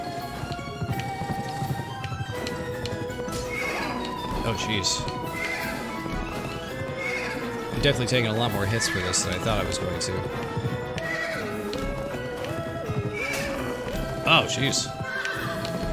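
Horse galloping and neighing during a boss-fight chase in the video game Pumpkin Jack, with steady hoofbeats and repeated whinnies layered over game music while someone talks throughout.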